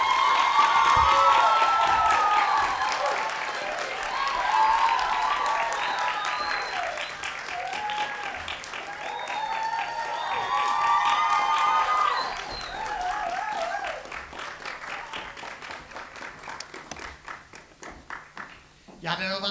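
Sustained audience applause with cheering and whoops at an upper-secondary school arts autumn concert, loud and dense throughout, easing slightly toward the end, with some voices mixed in.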